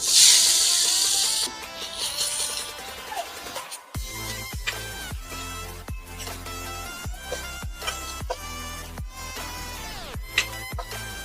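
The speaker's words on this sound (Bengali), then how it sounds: "এরপর এর মধ্যে একটা তেজপাতা দিয়ে দেব, দিয়ে গ্রেট করে রাখা পেঁপেটা দিয়ে দেব।" Grated papaya and a bay leaf hit hot white oil in a wok with a loud, close hiss. The sizzle is strongest for the first second or two, then fades under tuneful background music.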